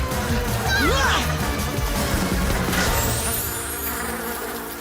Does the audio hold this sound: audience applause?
no